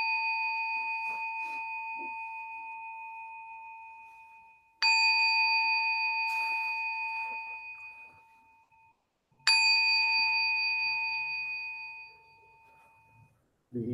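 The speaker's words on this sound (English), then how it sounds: "You just have the bell." Three clear strikes of a meditation bell at a Buddhist Dharma talk, each ringing out and slowly fading over several seconds, with long sustained tones and near silence between strikes.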